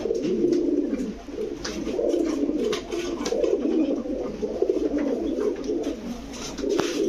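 Pigeons at a Bangladeshi pigeon shop coo steadily in overlapping low, throaty rolls, a dense chorus close by with no speech.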